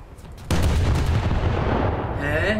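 A tank cannon shot bursts with a sudden heavy boom in War Thunder combat, followed by a sustained loud rumbling roar that fades slightly toward the end.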